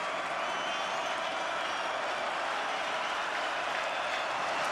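A dense stadium crowd roars steadily at a Western Kentucky vs Boston College college football game as fans stand for a third down, a continuous, loud, wash of cheering with no breaks.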